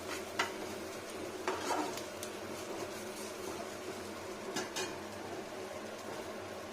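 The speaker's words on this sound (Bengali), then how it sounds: "এখানে থাক ফ্রাই প্যানে কিছুক্ষণ।" Young neem leaves sizzle softly in a frying pan before eggplant is added, a low continuous frying hiss with a few faint clicks and utensil taps.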